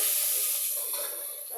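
Meat frying in a pan for a thin khichuri, a steady close sizzle that fades slightly over a short moment, with no talk.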